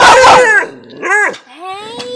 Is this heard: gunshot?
no